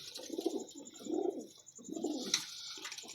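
Pigeons coo softly in a pigeon keeper's loft, three or four rounded, throaty coo phrases in a slow rhythm, faint and close, with a light chirp partway through.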